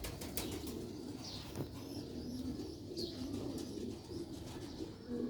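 Red pearl-marked Sialkoti pigeons flap their wings and coo close by, soft wingbeats and low murmuring coos running steadily through the whole stretch with a few brief chirps.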